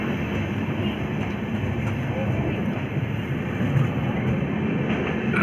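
The Jammu Mail Express rolls out of a station in Ludhiana, a steady low rumble of wheels and carriages with faint clatter throughout, heard continuously at moderate loudness.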